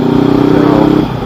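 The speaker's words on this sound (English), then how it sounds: "it allows me to hear my exhaust score" Exhaust of a 2019 Honda CB500X motorcycle drones loud and steady with a rough, throbbing note, easing off and dropping in pitch near the end.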